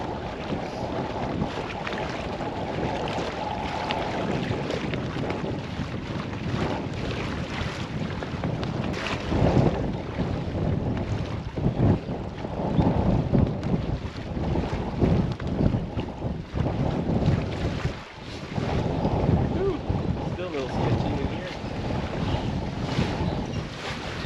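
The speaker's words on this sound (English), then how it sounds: "the wind isn't a lot better here" Steady wind buffets the microphone on a kayak during bass fishing, rumbling and roaring in gusts, with water sloshing faintly underneath and no talking.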